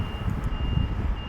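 A hotel shuttle bus at a Taoyuan high-speed rail station sounds a steady high reversing beep over a low idling engine rumble, close by and continuous.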